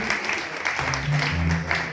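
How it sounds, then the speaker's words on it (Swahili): A church congregation at a service in Eldoret, Kenya claps together in a brief, dense burst of applause, fairly close, with a voice speaking over it. "Tupigie makofi mazuri katika jina la Yesu."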